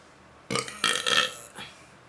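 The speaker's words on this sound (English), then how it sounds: "I'm gonna burp." A single drawn-out human burp, close and fairly loud, rising from a quiet indoor background and lasting over a second before trailing off.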